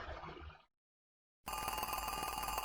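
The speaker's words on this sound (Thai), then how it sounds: "เสียงโทรศัพท์อีกแล้ว" Telephone ringing during a gameplay session: an electronic ring sounds loud and close, cuts off for a brief silence, then resumes as a steady bright trilling tone without any talk.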